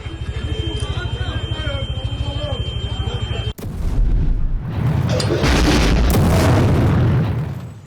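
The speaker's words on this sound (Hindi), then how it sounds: "इजराइल के किरियत शमूना इलाके में रॉकेट हमले की खबर, धमाकों की आवाज के बाद उठता दिखा धुआं" Explosions from a Hamas rocket attack on Israel's Kiryat Shmona area, heard in news footage: a voice talks first, then a sudden loud blast gives way to several seconds of heavy, rumbling roar that fades at the end.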